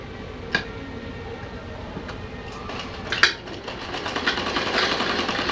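A sewing machine stitches fabric for a small Laddu Gopal dress, giving a steady, fairly close mechanical whir with faint ticks and clicks throughout and a few sharper taps.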